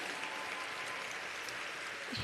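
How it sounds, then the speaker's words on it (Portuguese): An indoor audience at the Festival do Leitor in Rio de Janeiro's Maracanãzinho claps, a dense, even wash of applause throughout, moderately loud with no voices. "Uma salva de palmas para a Rosa."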